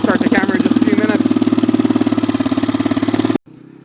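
Honda TRX400EX quad idling close by on a cold, snowy day, a steady even engine hum with someone briefly talking over it at the start before the sound cuts off abruptly near the end.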